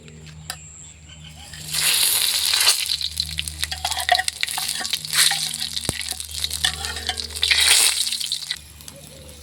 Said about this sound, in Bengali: তেজপাতা, শুকনো লঙ্কা, পাঁচফোড়ন, জিরা ফোড়ন করে নেব।